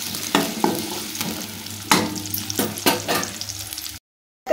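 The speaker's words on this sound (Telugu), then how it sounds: "ఇప్పుడైతే ఉల్లిగడ్డల్ని మనం మంచిగా ఫ్రై చేయాలి." Sliced onions fry in hot oil for a simple raw banana fry dish, a close steady sizzle punctuated by repeated sharp scrapes and clatters of a spoon stirring the pan, ending in sudden silence.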